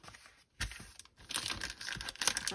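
A plastic bag crinkles and rustles close up in irregular bursts while craft items such as an embroidery hook are packed back inside it, with a brief quiet pause between handling sounds.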